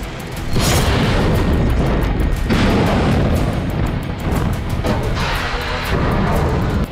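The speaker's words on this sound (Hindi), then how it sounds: "समंदर में मिसाइल फायर की जा रही है।" Booming, blast-heavy roar of missile and gun fire at sea during a Russian naval exercise, loud and sustained throughout with repeated deep detonations and no talk.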